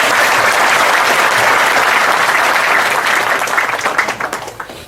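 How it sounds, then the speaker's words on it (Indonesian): Loud, sustained applause from a large gathered audience, dense and continuous clapping that thins into scattered claps toward the end. "Semua teman-teman sekalian tepuk tangan cinta untuk beliau"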